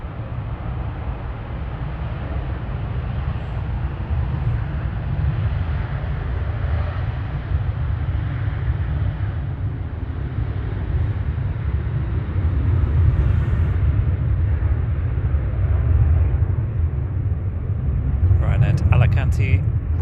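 A Ryanair jet bound for Alicante rolls along at Manchester Airport, a steady deep engine rumble that holds for the whole stretch, swelling slightly toward the end, with no talk over it.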